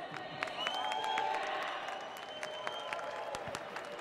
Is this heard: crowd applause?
yes